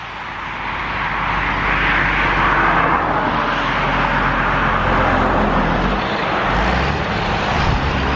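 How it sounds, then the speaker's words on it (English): Big trucks roll past on a four-lane highway beside a hiking trail, a loud, broad roar that swells and lingers as heavy vehicles pass close by, with no talk over it. "Big trucks driving by."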